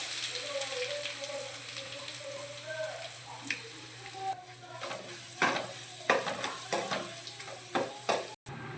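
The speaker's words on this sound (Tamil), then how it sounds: "அப்புறம் கொஞ்சம் கடுகு போட்டுக்கலாம்" Mustard seeds and curry leaves sizzling in coconut oil for rasam, a steady close crackle and hiss with sharp pops and spatters, plus occasional scrapes of a spoon against the pan.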